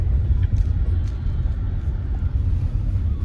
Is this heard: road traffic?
yes